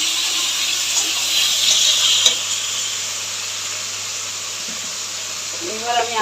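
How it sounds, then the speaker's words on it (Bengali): A little water poured into a pan of ground spice paste for a fish curry, a loud hissing sizzle that slowly settles, with a faint bit of speech near the end. "থালাটা দিয়ে সামান্য একটু জল দেবো।"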